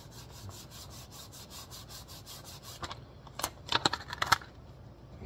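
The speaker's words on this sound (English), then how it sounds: "So let me keep sanding" A wooden stock from a Danish Krag rifle is being sanded by hand: quick, even, rhythmic rubbing strokes up close, then a few louder, sparser scrapes toward the end.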